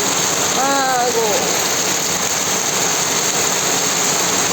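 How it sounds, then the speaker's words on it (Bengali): Heavy rain pours down as a loud, continuous hiss of drops on surfaces, close and unbroken, with a brief voice early on under the downpour. "কি প্রচুর বৃষ্টি,"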